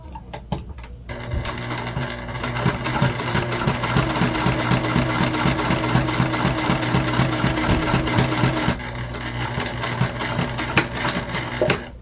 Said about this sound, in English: we're just going to pivot across and sew down the short side